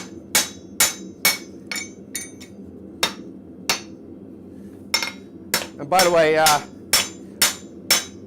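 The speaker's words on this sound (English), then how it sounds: "hitting down on the handle of a hammer is not the best way to reseat the head of your hammer" A hammer is struck down on its own handle to reseat a loose head in a blacksmith shop: a dozen sharp, ringing knocks at an uneven, unhurried pace, close and loud, with a brief spoken phrase partway through.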